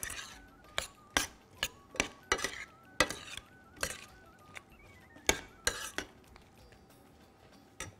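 Metal spoon clinking and scraping in a pan while sugar is stirred to caramelize for apple custard, a series of sharp, fairly evenly spaced taps with a faint sizzle underneath, close and quiet.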